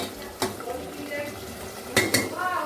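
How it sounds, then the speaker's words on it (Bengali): Vegetables being stir-fried in a home kitchen pan, a low sizzle broken by a few sharp clanks of a metal spatula against the pan. "এই যে সবজিগুলো দিয়ে দিয়েছি এবার ভালো করে কষিয়ে নিই"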